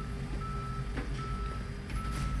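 A tow truck in a police video game sounds its reversing alarm, a clear repeating electronic beep at a steady pulse over a low engine rumble, close and moderately loud.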